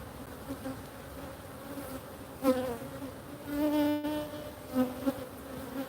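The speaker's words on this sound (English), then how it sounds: "still seems to be a lot of bees in here" Honey bees hum steadily inside a hive in a close, busy drone, with a few individual insects buzzing louder as they pass near.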